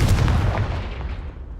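A Confringo spell blast in a Hogwarts video game, one heavy booming explosion that hits at once and rolls away over about a second and a half.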